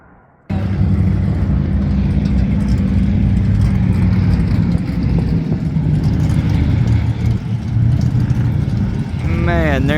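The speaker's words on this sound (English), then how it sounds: "there's some cars out here today. Sounds like the racetrack out here." Off-road vehicles roar and rev across the Imperial Sand Dunes at Glamis, California, a loud, continuous engine drone filling the whole stretch with surges as machines pass nearby.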